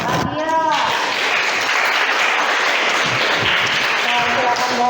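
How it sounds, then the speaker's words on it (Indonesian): Classroom applause from students, a loud burst of group clapping that fills the room for several seconds, with a voice speaking briefly at the start and again near the end. "Beri tepuk tangan untuk Adia."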